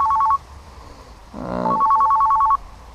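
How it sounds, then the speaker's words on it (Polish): A mobile phone rings in two bursts of a bright electronic trill during a pike spinning-fishing outing, with a short gap between them and a brief hum underneath. "jak zwykle coś mi przeszkadza telefon"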